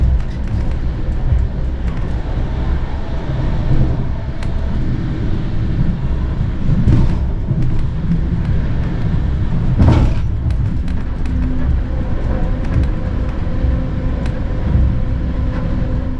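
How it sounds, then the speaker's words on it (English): An old TRI replacement train, an N-Wagen carriage, runs with a steady low rumble and rolling drone, punctuated by a few short knocks and rattles, one sharper clunk midway, no talking. "in this video we will focus a bit more on the sound of those trains"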